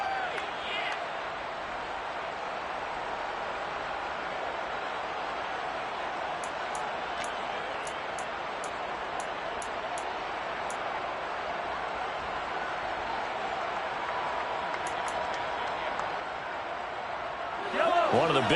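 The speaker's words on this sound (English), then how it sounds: "the crowd getting into it as we come up on a big 3rd down" Stadium crowd noise at an NFL game involving the Chiefs and Mahomes, a steady roar building before a big third down, with bursts of whistles and a commentator talking over it.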